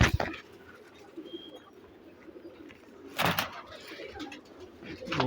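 Thuth-type pigeons with blue eyes coo in a loft, making low, throaty murmurs at close range. A louder burst of fluttering or shuffling breaks in midway, and the cooing resumes softly afterward.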